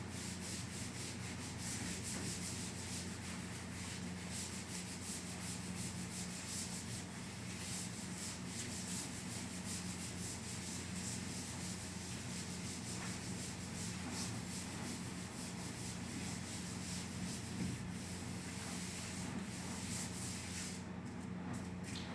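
Steady, continuous rubbing of a duster across a classroom board as writing is wiped away, a close, unbroken scrubbing hiss lasting over twenty seconds with no talk.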